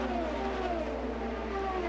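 An IndyCar at the 2016 Indianapolis 500 runs down the front stretch past the yard of bricks, its high engine whine holding steady and then dropping slightly in pitch, moderately loud and unbroken.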